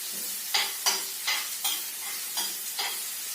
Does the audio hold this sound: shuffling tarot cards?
no